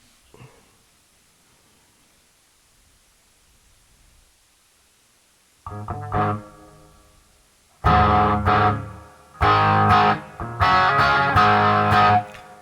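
An electric guitar on an amp's clean channel, with the gain set around one o'clock, rings out in loud strummed chords after several seconds of near silence, in three or four separate bursts.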